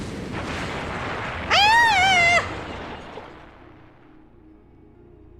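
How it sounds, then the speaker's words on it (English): Cannon fire booms and crashes into a building in Hakuoki: Kyoto Winds, a loud rumbling roar that trails off into quieter settling debris, with a brief sung or wailing voice over the middle. "It sounded like the cannons were cracking into the building directly"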